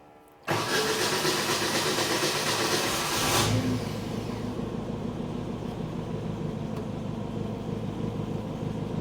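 A Bobcat 542B skid steer loader's engine cranks and catches with a loud burst, revs briefly, then settles into a steady, rumbling idle close by.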